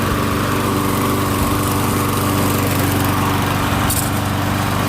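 A Briggs and Stratton Quantum lawn mower engine runs steadily and loudly up close, its self-propel drive engaged, with a brief higher whine near the end.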